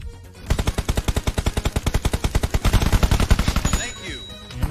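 Rapid automatic gunfire from a shooting video game rattles in a long, loud, fast burst of evenly spaced shots, easing off near the end as game effects take over.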